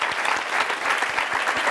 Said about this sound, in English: Can we give Guy another round of applause?